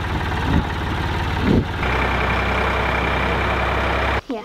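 A farm tractor with a front bucket runs close by, its loud, steady, low idling drone continuing for about four seconds before cutting out abruptly.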